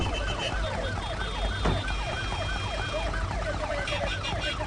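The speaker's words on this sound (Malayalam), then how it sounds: "ആംബുലൻസ് ആണല്ലോ." An ambulance siren wails in a repeating up-and-down cycle through congested road traffic, loud and close, with a brief horn-like tone and engine rumble underneath.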